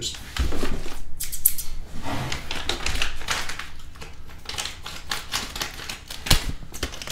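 Sharp snipping and crinkling of plastic packaging on motorcycle parts with scissors, irregular clicks and rustles, close by, continuing steadily throughout.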